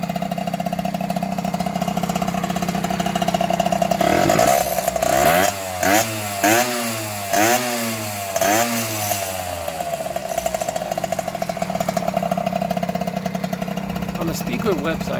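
A Yamaha YSR50 two-stroke motorcycle engine runs nearby with a buzzy, raspy idle, rising and falling through several blips of revs in the middle before settling back to a steady idle.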